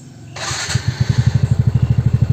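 A TVS Ntorq 125 scooter engine cranks and catches, settling into a steady, rhythmic idle putter up close, with no talking.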